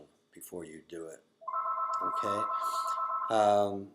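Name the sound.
telephone ringing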